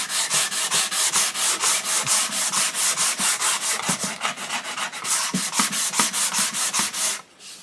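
80 grit sandpaper worked over a wooden HW30 air rifle stock, steady rhythmic back-and-forth rasping strokes, close and fairly loud, about three strokes per second, with no voices.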